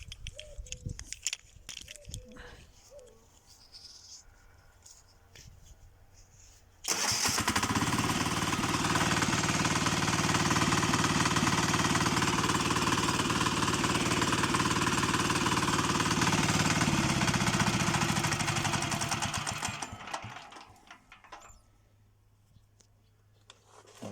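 A walk-behind tractor engine, started with a rotary hammer, gives a loud, rapid hammering drone that starts abruptly and runs steadily for about thirteen seconds, then stops, leaving quieter rustling and clatter around it.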